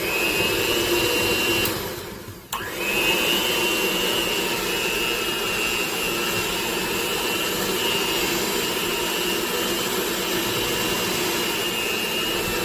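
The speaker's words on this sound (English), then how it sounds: "you're just going to take the hand mixer. And we're just going to mix away." A hand mixer whirs steadily through peanut butter, sugar, egg and vanilla extract in a bowl, a close, constant motor whine that drops out briefly near the start before resuming at full strength.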